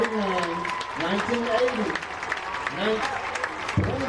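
Crowd applauding for the Franklin Simpson Wildcats' championship teams at a school event, steady clapping running under a voice announcing over a loudspeaker.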